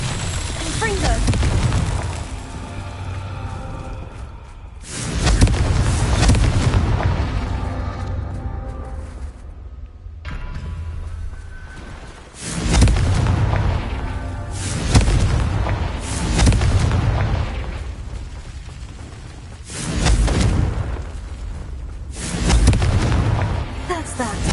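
Repeated fire spell blasts in the Hogwarts Legacy video game, about five loud booming explosions spaced several seconds apart, each with a rumbling decay, mixed with game sounds and speech.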